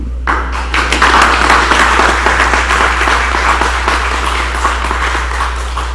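Applause at a freeholder board meeting, a dense sustained round of clapping from the room, steady and fairly loud over a low hum.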